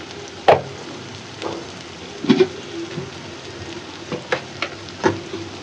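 Shing fish and potatoes sautéing in a pan with salt, turmeric and ground chili and cumin paste, giving a soft steady sizzle broken by several sharper spatters and stirring scrapes, with no talk.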